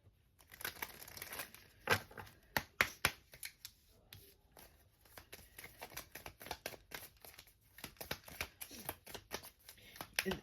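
Archangel oracle cards are shuffled and drawn by hand, a steady run of crisp riffling slaps and papery flicks with a few sharper snaps, close and fairly quiet with no talk.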